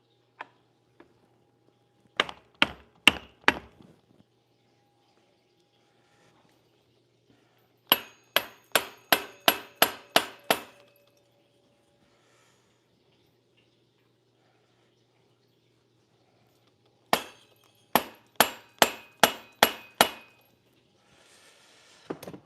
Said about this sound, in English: I hate having to use a hammer on a bike. I hate hammering on bikes.